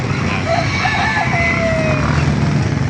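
Roosters crowing at a market in Baliuag, with a couple of drawn-out calls over steady background rumble and engine-like noise.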